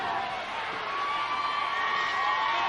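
Crowd at a professional wrestling match in Tulsa roaring and cheering for Hacksaw Jim Duggan, a dense, sustained wall of shouts and whoops throughout.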